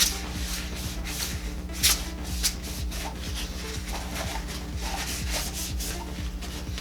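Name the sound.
wiping inside of spray gun bowl with a rag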